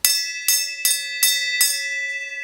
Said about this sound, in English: would you ring the bell?